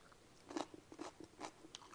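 Several crisp crunching bites into a raw bell pepper while making fresh garden salsa, loud and close, spread irregularly across a quiet kitchen with no talking.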